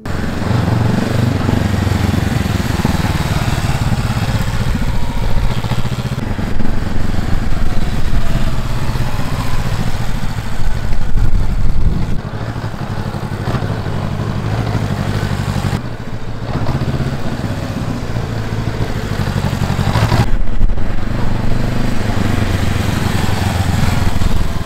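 A motorcycle engine runs continuously through a ride, a loud steady drone with a rough mechanical rattle that swells and dips slightly, heard close and alone.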